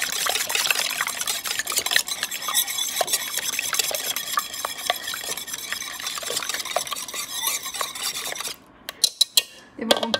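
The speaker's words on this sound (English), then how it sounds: "You want to first make sure you whisk the eggs very," Eggs being whisked in a bowl for a Southern pecan pie, a steady rapid scraping and tapping of the whisk against the bowl that runs continuously up close, then stops near the end with a few separate knocks.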